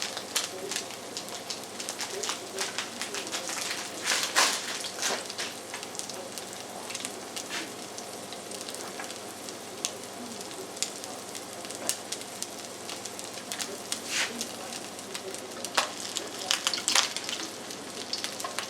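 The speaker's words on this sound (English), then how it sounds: "That looks much better. Frying much better too." Eel cakes sizzle steadily in a pan, a close crackling hiss with scattered pops and spits that rises and falls over nearly twenty seconds, no talking over it.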